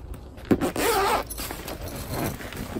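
Sturdy zippers on the Louët Victoria art yarn bag, a backpack-style carrier for a spinning wheel, are pulled in several quick, close rasping strokes, one long continuous zip in the middle, with no talking.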